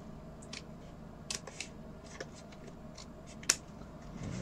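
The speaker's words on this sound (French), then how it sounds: "je crois que je vais être obligée de le faire à la paire de ciseaux" Scissors cutting paper during a mini theatre card craft, with faint, quiet snips and rustles scattered irregularly, one sharper snip near the end.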